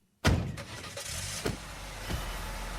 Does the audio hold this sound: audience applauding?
no